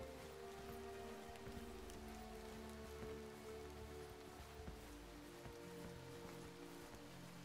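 Steady rain pattering on surfaces during a night infantry mission in the military shooter game Arma 3, a constant dense hiss with low rumbling tones underneath and no voices.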